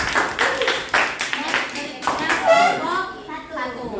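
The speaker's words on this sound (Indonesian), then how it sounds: "kasih tepuk tangan ke kelompok" A short burst of hand clapping from a small group of pupils in a classroom, applauding a student group, mixed with children's voices talking over it.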